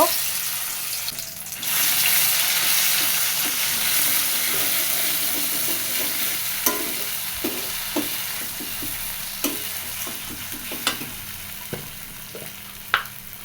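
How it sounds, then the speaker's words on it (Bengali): Dried red chilies and cumin seeds tempering in hot oil, a steady hissing sizzle with scattered sharp pops and spoon clicks against the pan, fairly close. "শুকনো মরিচ জিরে ফোড়ন দিলাম এখন আমি বাটা মশলাটা দিয়ে দিব"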